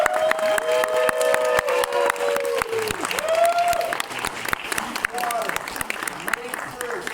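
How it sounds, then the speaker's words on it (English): A crowd applauds and cheers over music, with clapping throughout that thins out toward the end. "everyone give a huge cheer"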